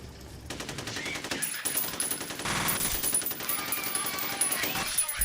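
Rapid automatic gunfire in the shooter game F.E.A.R., a loud, dense burst of rattling shots running nearly continuously with brief gaps, under game music and effects.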